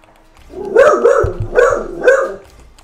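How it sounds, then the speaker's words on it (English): A dog barks loudly and close by, four deep woofs in a quick uneven series, then quiet. "No, that's just my loud dog."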